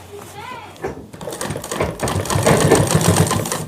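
A sewing machine stitches the middle section of a shirt, a dense steady mechanical whir that builds and grows louder through the second half, with a brief tonal sweep and some voice-like sound early on.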